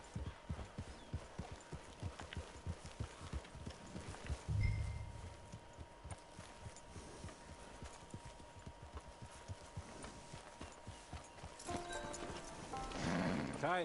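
Steady clip-clop of horse hooves walking at an even pace in the video game Red Dead Redemption 2, with a brief snort and some faint background talk toward the end.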